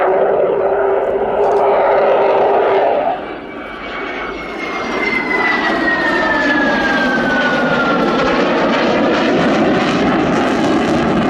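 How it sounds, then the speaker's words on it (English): Loud, continuous roar of a Sukhoi Su-27 fighter jet with twin Saturn AL-31F turbofans, a high whine sweeping downward as it passes, then a broad rumbling engine noise that persists. "The two Lyulka, or now Saturn AL-31F turbofans."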